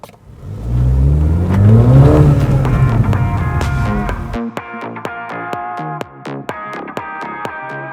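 A MINI John Cooper Works with a 2-litre four-cylinder engine accelerates loudly, its engine note rising strongly for about four seconds before dropping away into a sharper, more clipped sound.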